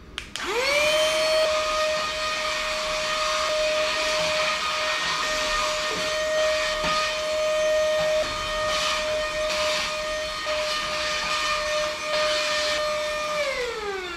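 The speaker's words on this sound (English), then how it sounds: "Alright, let's try out a vacuum." A small handheld vacuum cleaner that comes with an air duster spins up quickly, then holds a loud, steady high-pitched whine and airy hiss close by before winding down at the end.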